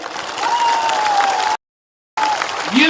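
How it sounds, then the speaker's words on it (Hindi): A crowd at a mass political rally in Tipraland, Tripura, applauds in loud, sustained clapping that cuts out for half a second to silence, then resumes with a swelling cheer toward the end. "ताली दीजिए इनको।"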